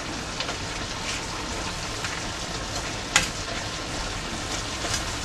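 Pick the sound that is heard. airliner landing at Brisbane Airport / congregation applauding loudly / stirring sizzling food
stirring sizzling food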